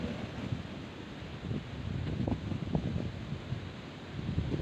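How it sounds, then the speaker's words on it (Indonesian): Wind blowing at an outdoor fishing spot before rain, a steady low rumble of gusts buffeting the microphone with faint rustling, no voices. "Dapat angin nih."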